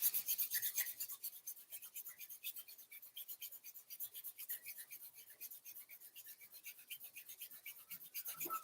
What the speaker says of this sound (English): Rub your hands together, creating some warmth, creating some energy,